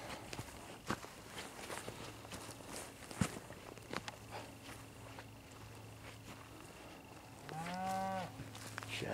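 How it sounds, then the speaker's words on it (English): Near the end, a cow gives a single drawn-out low moo outdoors near an old quarry. Scattered footsteps and faint background noise come before it. "Cows."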